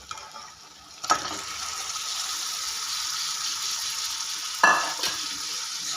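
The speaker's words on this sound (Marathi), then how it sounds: "आता यात आपण घालू खिमा" Mutton keema hits hot masala in a pan with a sharp sizzle, then frying continues steadily with intermittent stirring scrapes and clinks, close and clear.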